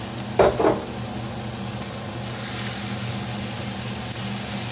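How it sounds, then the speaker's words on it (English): Mushrooms, peppers and onion fry in a pan with a steady, hissing sizzle, opening with a couple of sharp scrapes of stirring before the sizzle settles into an even, close wash. "the mushrooms and peppers and onion. Get these cooking really good."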